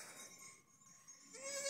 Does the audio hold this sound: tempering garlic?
no